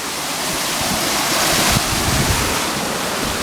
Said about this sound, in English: Up here I think is a waterfall.